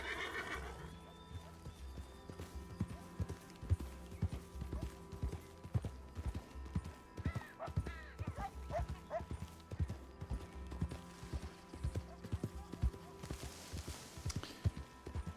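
A horse in Red Dead Redemption 2 whinnies loudly near the start, then its hooves clip-clop steadily throughout over a low background rumble, with a few further snorts and neighs along the way.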